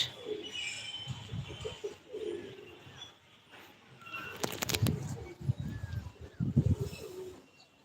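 Racing pigeons released from a house roof after a long break, giving soft cooing and scattered calls outdoors, with occasional faint voices and a few louder bursts near the end.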